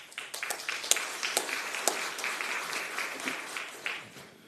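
Audience applause at a county commission meeting, a steady round of many hands clapping in a large room, moderately loud, fading slightly toward the end.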